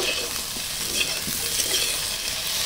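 A spoon stirs eggplant curry with chopped tomato and ginger paste in a hot pan, steady scraping over a continuous loud sizzle of frying, with no talking.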